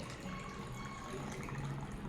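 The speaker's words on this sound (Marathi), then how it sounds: "आता पुन्हा मी यामध्ये हे केंगेनचं पाणी टाकते आहे" Kangen water poured into a container holding pH indicator, a steady low splashing pour running the whole time without a break.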